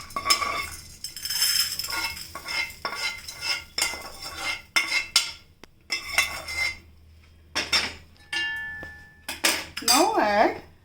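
A metal spoon scrapes and clinks against a pan while fried seasoning is removed in a home kitchen, with repeated close, bright metallic scrapes and knocks in uneven bursts and short pauses between.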